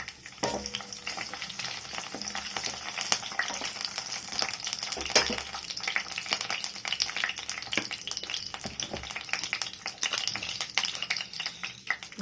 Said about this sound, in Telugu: ఆయిల్ వేడయ్యాక పచ్చిమిర్చి వేసుకోవాలి.